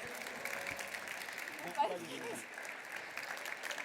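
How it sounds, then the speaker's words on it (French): A conference audience applauds as a panelist is welcomed onstage, steady broadband clapping filling the room while a voice speaks over it. "Anaïs Voigilis, on va l'applaudir"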